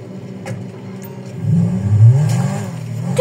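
A car engine revving in GTA Online, a close, loud mid-pitched roar that swells and climbs in pitch around the middle before holding high, with no talk over it.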